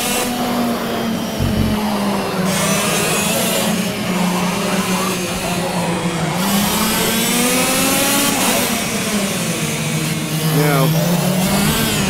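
A race car engine in Project Cars revs and whines steadily, its pitch climbing and dropping with gear shifts throughout, loud and close.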